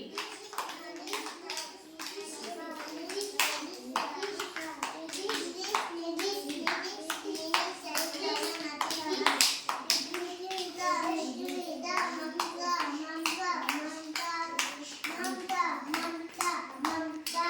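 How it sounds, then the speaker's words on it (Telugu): Children at an anganwadi preschool clap hands continuously in dense, lively rounds of applause, their voices mixed in beneath the sharp, repeated claps. "క్లాప్స్ బాగా కొట్టాలి."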